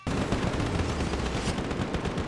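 Gunfire in a video game, heard as a sudden, sustained burst of rapid, overlapping shots, loud and continuous from start to finish with no voices.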